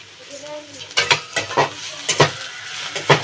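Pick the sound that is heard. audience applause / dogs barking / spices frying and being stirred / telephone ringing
spices frying and being stirred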